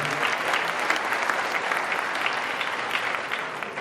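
An audience claps steadily throughout at a spiritual talk, the many hands blending into an even, continuous roar at moderate volume.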